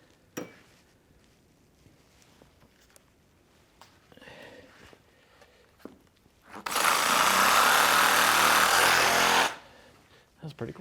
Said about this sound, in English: So I'm going to grab the Sawzall again.